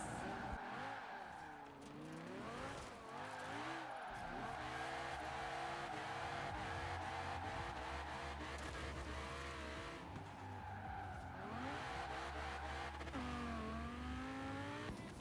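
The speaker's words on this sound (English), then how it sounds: "I took the car to a special portion for drifting and I drifted it" A car drifting in a driving video game, with engine revs sweeping up and down under long squealing tire skids, a continuous layered roar with no talk.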